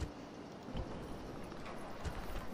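Horse hooves clip-clopping across the battlefield in the Rome: Total War video game, a steady muffled patter of footfalls inside a dense, noisy wash of game sound, with no clear neigh standing out.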